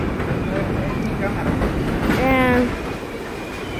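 A New York City subway 1 train rumbles steadily at a station, with a brief high wheel squeal partway through under a person talking nearby.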